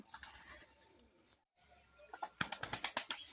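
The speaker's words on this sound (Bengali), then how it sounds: "আজকে পাখিগুলোকে খাবার দিলাম সবাই এসেছে খেতে" Pigeons crowd together to feed at a pigeon farm, giving soft cooing calls with scattered wing flaps. A loud burst of rapid fluttering wingbeats closes the sequence.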